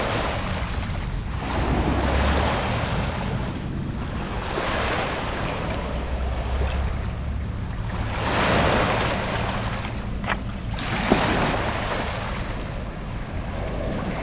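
Sea waves washing onto a pebble beach in Wales, a steady rolling surf roar with slow swells and retreats, heavy wind buffeting the microphone, and no talking.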